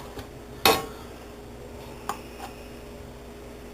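A metal spoon clanks once against a pot while flour is stirred into hot oil for a roux, followed by a few faint taps and scrapes in a quiet kitchen.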